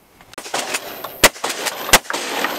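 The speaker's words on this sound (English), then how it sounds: "a whole lot of shooting, nothing falling." Repeated gunshots fired outdoors during pest shooting around an old shed, two sharp loud cracks standing out among quieter bursts and rustling in a busy background.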